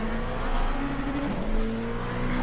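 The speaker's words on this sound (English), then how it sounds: "Big kick of wheel spin." An LMP2 race car in the iRacing sim at Daytona spins its wheels under hard acceleration, a loud, steady engine drone with a brief pitch dip midway and no voices over it.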